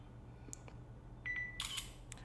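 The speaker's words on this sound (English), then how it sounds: "And the shutter speed was fast." A phone camera shutter on an ASUS ZenFone 2 Laser fires faintly, with a brief electronic tone and a short click burst, in a quiet room with no talking.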